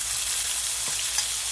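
Peppers and onions fry in hot corn oil, giving a loud, continuous close-up sizzle and crackle throughout.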